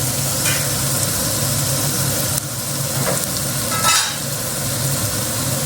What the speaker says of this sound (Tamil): இப்போ சிக்கனையும் போட்டு வதக்கிடலாம்